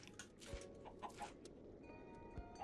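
Faint, scattered clucks from a few chickens in modded Minecraft over a soft background hum, with occasional light thumps as they are thrown into a hole.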